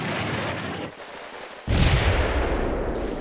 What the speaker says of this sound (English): At last the artillery arrives, but not as much as I'd hoped for, and somewhat later than I expected.